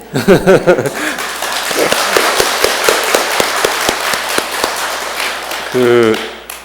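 An audience claps in unison during a Korean Buddhist monk's talk, a long run of sharp, evenly spaced hand claps following a few words of speech, then ending as a voice resumes.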